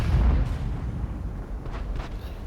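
A tank cannon fires in the World of Tanks video game with a heavy boom that opens the moment, then a rumbling low tail that fades out under the steady game ambience.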